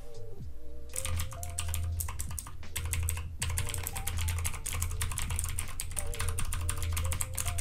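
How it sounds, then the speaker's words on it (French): A mechanical keyboard with blue switches types rapidly and loudly, with crisp clicky keystrokes packed in a continuous close run and no voice over it. "je vais vous passer un petit test du clavier et vous allez voir que ça fait vraiment beaucoup de bruit"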